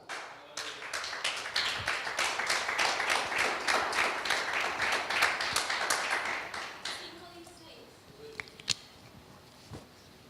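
A church congregation applauds with dense, rapid clapping that swells for several seconds and then fades out, followed by a few scattered claps as talk resumes.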